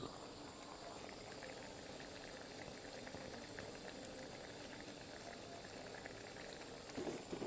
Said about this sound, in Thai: หมอกระเดือดคักละเด้อวันนี้ครับ